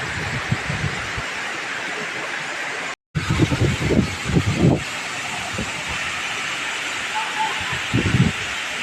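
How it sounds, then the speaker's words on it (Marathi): A Konkan stream swollen by monsoon rain rushes in a loud, constant roar, while someone talks in short bursts over the flowing water. "पाणी बरंच थोडं वाढले, वाहत नाही इकडून, ह्या साईडून, तिकडून फक्त वाहते काही"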